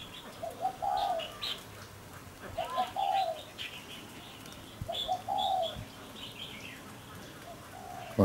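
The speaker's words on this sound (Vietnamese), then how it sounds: "Còn con cu già nó đang đấu hót ở đằng kia kìa." Spotted doves call in a rural setting where a pair of young birds sits near an older male, giving repeated soft cooing phrases in short bursts separated by pauses, moderately close against faint background noise.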